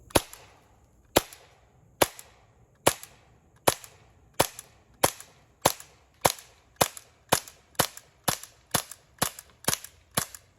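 A Glock G17 Gen5 .177 CO2 pistol fires repeatedly at a plastic water bottle about ten feet away, around fifteen sharp cracks spaced roughly every 0.6 to 1 second, each with a short ringing tail.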